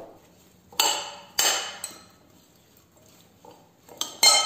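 Potato wedges tossed with mixed herbs in a bowl, giving several sharp clinks and scrapes of a utensil against the dish at uneven intervals, close and fairly loud against a quiet background.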